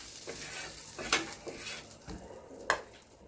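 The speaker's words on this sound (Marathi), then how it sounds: "बांगडासुद्धा फ्राय करून घेते." Marinated bangda mackerel fries in a pan with a steady close sizzle, broken by a few sharp scraping and stirring clinks of a utensil against the pan.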